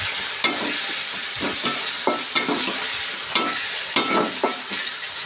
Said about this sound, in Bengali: এখন আমি দিয়ে দেবো পেঁয়াজ বাটা।